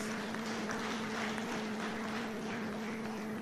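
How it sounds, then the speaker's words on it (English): A Lions club audience gives a round of applause during an address, steady moderate clapping spread across the room alongside a constant low electrical hum, with no voices heard. "I think they deserve a big round of applause."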